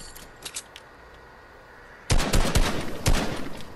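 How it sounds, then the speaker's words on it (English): Video game gunfire: a few faint shots early, then loud rapid bursts of automatic fire crackling in quick succession after a short quiet pause. "Why are you shooting?"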